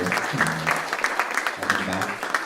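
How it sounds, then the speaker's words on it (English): Audience applause at a student piano recital, a light scattering of hand claps from a modest crowd running under a speaking voice. "Let's go ahead and give Mr. Asher a big round of applause just for coming up here"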